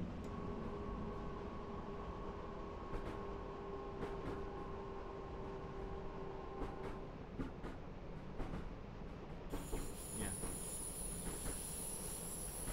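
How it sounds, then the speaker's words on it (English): Electric train accelerating in Train Simulator 2018 on the Innsbruck to Munich route, a steady rising motor hum and rolling rail noise with faint wheel clicks, joined near the end by a high whine. "this train, it does have really nice sound. Like the sound when it's accelerating and decelerating."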